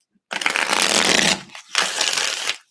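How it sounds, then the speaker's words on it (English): Tarot-style cards shuffled for a reading in two quick close bursts, a longer riffle followed by a shorter one after a brief pause, in an otherwise quiet room. "And last shuffle."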